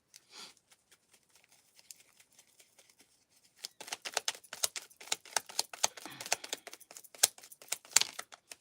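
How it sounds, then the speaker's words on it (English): Tarot cards are shuffled in a quiet room, faint scattered taps at first, then a dense run of crisp riffling flicks and slaps. "So let me just keep on shuffling until we get one that comes out here."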